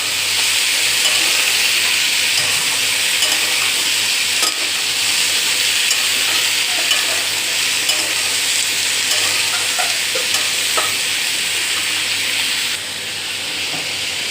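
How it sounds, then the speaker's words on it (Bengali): Ridge gourd and potato fry with onions in a pan, giving a loud, steady sizzle that holds for the whole stretch, with faint stirring scrapes underneath and no talking. "এবারে ঝিঙে আর আলু দিয়ে দেবো।"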